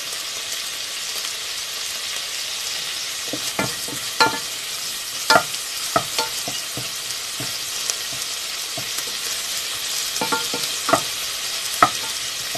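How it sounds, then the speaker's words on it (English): Double beans frying in a pan, a steady broadband sizzle running throughout with scattered sharp clicks and scrapes from stirring, fairly close and with no talk. "So I'm going to leave it there to fry."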